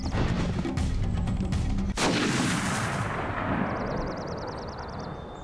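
A sharp gunshot cracks once amid a dense, noisy Kingdom Hearts soundscape in the Deep Jungle level, followed by a fading rumble and a faint warbling tone.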